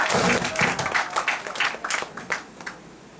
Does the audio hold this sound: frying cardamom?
no